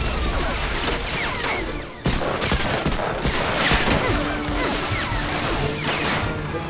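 A mounted turret machine gun fires nonstop in the Medal of Honor Allied Assault Breakthrough expansion, a dense, loud rattle of rapid shots with crashing impacts and brief pauses throughout.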